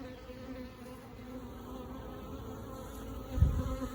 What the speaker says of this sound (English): mixed genetic bees